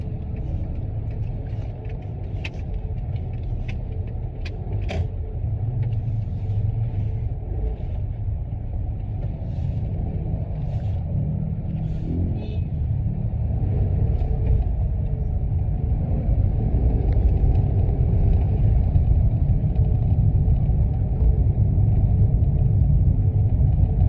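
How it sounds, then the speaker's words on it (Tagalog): Car traffic rumbles steadily along a road near Bacoor and Tagaytay on a busy Sunday, a continuous low engine drone heard from inside a vehicle that grows slightly louder over time, with no one speaking. "It's traffic."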